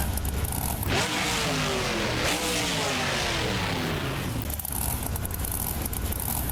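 Monster truck engine revs in a BeamNG Drive Monster Jam game at Bristol Motor Speedway, a loud engine note climbing and falling in pitch through repeated accelerations over a steady roar.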